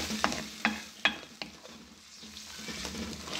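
Four medium tomatoes and three or four whole green chillies fry in a pan for a restaurant-style rajma lobia salan, with a steady sizzle and several sharp scrapes and clinks of stirring early on, fairly quiet.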